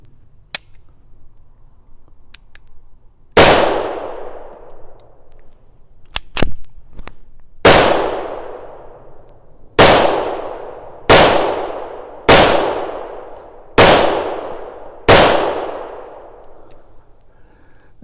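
Seven sharp, loud .45 Colt pistol shots are fired at a steel target at irregular intervals of one to two seconds. Each crack has a ringing decay, and a few faint clicks come before the first shot.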